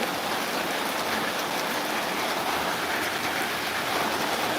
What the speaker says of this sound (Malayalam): ഇവിടെ ചെറുതായി മഴയുണ്ട്